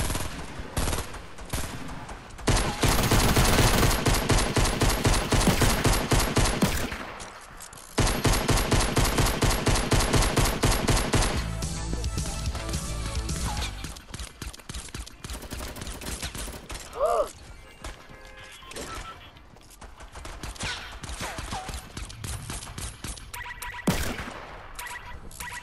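Rapid gunfire in Fortnite, a long fast burst of shots that falls to scattered single shots, loud and close with a short pause in the middle and busy game noise around it.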